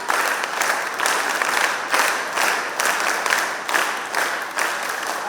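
Audience applause at a disaster-rescue training session in Delhi, steady loud clapping from a crowd that swells in waves and carries through to the end.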